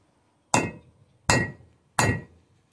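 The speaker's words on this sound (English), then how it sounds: "lie it on the anvil and just hammer the snot out of it" Three loud, sharp metallic strikes, evenly spaced, as a hammer pounds a length of rebar flat against an anvil, each ringing briefly before fading, with no talking.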